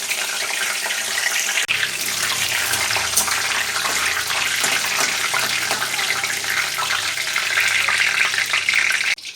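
Bay leaves and whole spices crackle in hot mustard oil in a kadai, a loud continuous hiss with scattered pops, close and unbroken for about nine seconds before cutting off.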